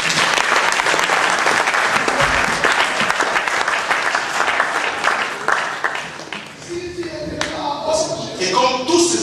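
A church congregation at a spiritual combat prayer service breaks into sustained applause, dense and loud clapping that thins toward the end as scattered claps and a few voices remain.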